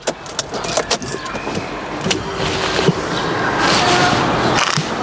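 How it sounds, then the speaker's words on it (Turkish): Electric windows closing on an Opel Cascada convertible, a motor whir that builds and holds steadily after a few sharp clicks and knocks, close and fairly loud. "Ve bu arabayı camları kapatıyoruz ya mesela Dursun."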